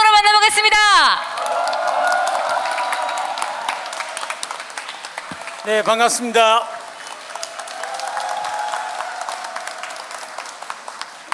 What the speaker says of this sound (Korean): 뜨거운 박수 함성으로 만나보겠습니다